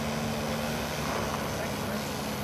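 RC MidWest Citabria model plane with a brushless outrunner motor flying, a steady buzzing drone continuing unbroken throughout, with voices faintly underneath.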